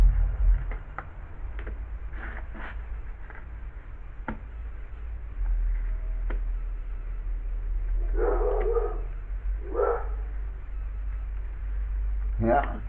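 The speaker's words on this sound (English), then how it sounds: "As usual, neighbor's dogs." Neighbouring dogs bark in short, scattered bursts near a boat shelter, sounding moderately distant over a low background hum, with a couple of stronger yelps toward the end.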